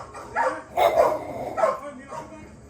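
A Labradoodle puppy barks and yips in several short, close bursts, with a few whimpering notes between them.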